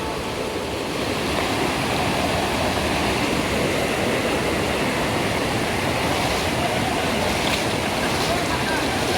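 A forest stream's rushing water pours continuously in a dense, steady roar, loud and close, with no break and a faint voice barely surfacing beneath it.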